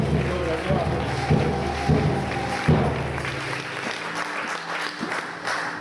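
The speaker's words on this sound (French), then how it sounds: "nous applaudissons très fort pour ce Dieu-là" A church congregation applauds, loud clapping mixed with voices and a low hum, fading somewhat toward the end.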